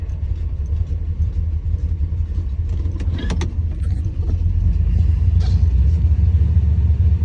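A 1977 El Camino engine idles with a deep, steady low rumble, close and loud, growing slightly stronger toward the end, with a few light clicks over it.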